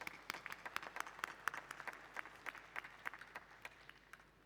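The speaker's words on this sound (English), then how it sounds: "Let us give him a big applause to appreciate him, his participation." Conference hall audience at a ministerial energy forum applauding a speaker, scattered individual claps ringing out in an irregular rhythm, moderately loud, with no voices over it.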